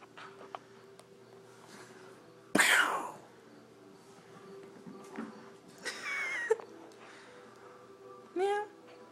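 A cat a week after a dog bite and an operation gives a few short, faint meows in a quiet room, between sharp bursts of other noise and people talking.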